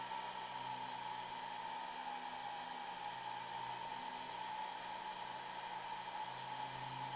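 A heat gun set around 320 degrees blows hot air steadily to shrink tubing on a quick lock adapter, a constant loud airy hiss with a motor whine, unchanging and alone throughout.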